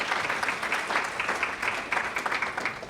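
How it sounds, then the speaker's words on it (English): An audience applauds steadily for a conference panel, with dense, even clapping that holds for about three seconds without a break. "If we can please give them a round of applause"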